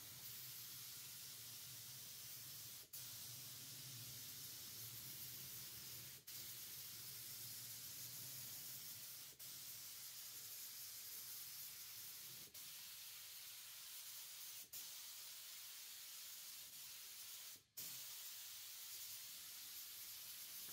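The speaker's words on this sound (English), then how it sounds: "because this gun is a low volume gun, I'm not able to move my hand extremely fast while I'm applying the primer" Low-volume LVLP spray gun applying primer to a piece of furniture, a steady faint hiss of atomized spray running continuously with a few brief breaks as the trigger releases.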